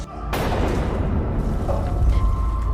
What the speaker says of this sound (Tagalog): Narinig ni Lauren ang putok ng baril mula sa banyo